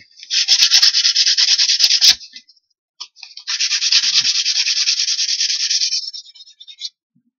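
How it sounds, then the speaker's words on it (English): Hand sanding on wood, two long steady gritty rubbing passes with a brief pause between, close and loud. "now we only give it a good sanding"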